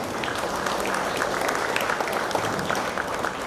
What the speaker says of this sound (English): Let's give a round of applause to all of those who made this event a very successful.